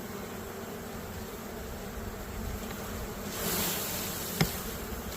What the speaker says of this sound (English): Lots of bees in there.